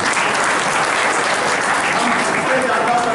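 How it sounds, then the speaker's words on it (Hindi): An audience at a Hind Sanskritik Manch meeting in Nagda about the Kanwar Yatra claps steadily and loudly, a dense, continuous burst of applause with no pause. "ताली बजाओ इनके लिए।"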